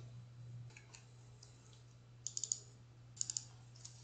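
A computer mouse clicks faintly in a quiet room, two short bursts of three or four quick clicks each, over a low steady electrical hum.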